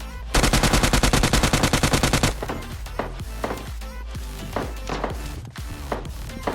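Gunfire in PUBG Mobile Lite: a rapid, loud burst of automatic fire for about two seconds, then a string of separate sharp shots spaced irregularly, close and alone without talk.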